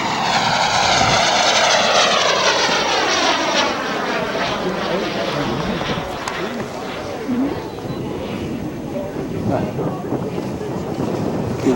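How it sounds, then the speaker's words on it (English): A scale model airplane makes a low flyby at an aircraft show, its propeller engine note loud and close at first, sweeping down in pitch as it passes and fading away under wind noise, with people talking. "Dave Ribby on a flyby"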